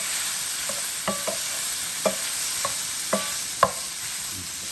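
Teriyaki chicken with mushrooms, seasoned with black pepper, is stirred in a pan: a series of utensil scrapes and clinks, about eight distinct strokes, over a steady low sizzle, close and moderately loud, no talking.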